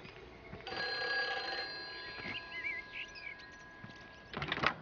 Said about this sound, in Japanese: 電話が鳴ってるぜ。